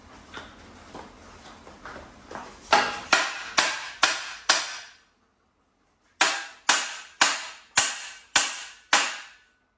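Hammer blows on a bolt while working on a Hemi 265 engine teardown: a run of sharp metallic strikes, faint at first then loud and evenly spaced, a pause, then another regular burst of close hits.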